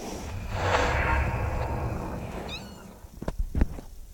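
A black cat meows once in a drawn-out, wavering cry early on, followed by a few short chirps and faint thumps close by, with no talking.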